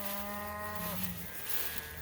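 Cattle in a farm pasture beside a pond give a single drawn-out, low moo that is fairly faint and fades after about a second, amid quiet outdoor background.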